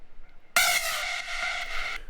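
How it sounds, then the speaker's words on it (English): A bright synth melody in a big room techno drop starts abruptly and holds steady, loud and alone, with a delay effect trailing its sustained tones. "I've also got a delay as well on this one,"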